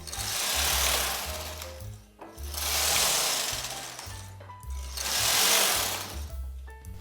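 A home knitting machine's carriage sweeps back and forth across the needle bed knitting rows for a short-row top, three long, even whooshing passes in a steady rhythm with brief pauses between them.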